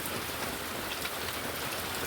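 Heavy rain pours onto a flooded courtyard, a dense, continuous hiss of drops hitting water and ground, loud and steady throughout with no voices.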